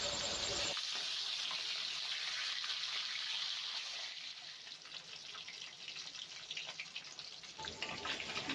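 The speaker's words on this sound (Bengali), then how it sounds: "মাছের কাঁটাগুলো ভালো করে উল্টে পাল্টে লাল লাল করে ভেজে নেব।" Pangas fish bones frying in hot oil make a loud, dense, hissing sizzle that eases slightly midway, then picks up again with sputtering crackles.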